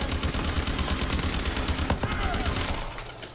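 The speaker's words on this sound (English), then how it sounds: "The AE4, they made it like an LMG" An AE4 weapon in a zombies-mode shooter fires like a light machine gun, producing loud, sustained automatic bursts of rapid shots that stay dense and continuous throughout.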